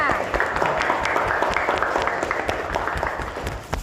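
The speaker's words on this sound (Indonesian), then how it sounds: "Tepuk tangan dulu untuk kita semua." Schoolchildren clap together in a classroom during a teacher training lesson, a fairly dense, bright patter of hands over a few seconds with some chatter underneath, fading toward the end.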